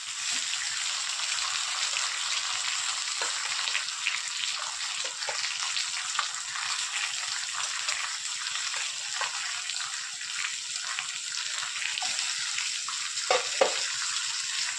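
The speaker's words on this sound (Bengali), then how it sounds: "এবার সাথে দিয়ে দিচ্ছি একটা রুই মাছের মাথা।" A rohu fish head fries in hot oil with five-spice. A steady, bright sizzle and crackle runs unbroken throughout, with occasional sharper pops and spits close by.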